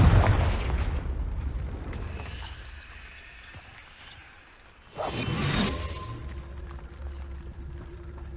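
A Confringo explosion spell goes off in Hogwarts Legacy, heard as a sharp whooshing boom about midway that swells and then fades into a lingering rumble.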